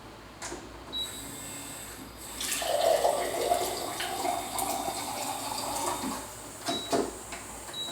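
Cold tap water runs steadily, splashing softly into a basin at close range, with brief clicks and handling noises around it.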